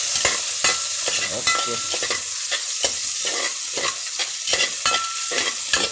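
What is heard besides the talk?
stir-frying garlic and onion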